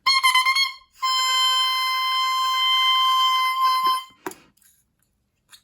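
An adjusted oboe-type double reed blown alone gives a short buzzy beep, then a longer sustained steady beep of about three seconds with no crow, followed by a brief breathy noise and a soft tail.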